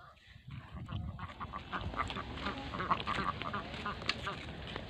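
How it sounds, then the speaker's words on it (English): Small ducks quack in a busy, overlapping chatter at a moderate distance, with calls repeating irregularly over a continuous rustling background. "Mini ducks."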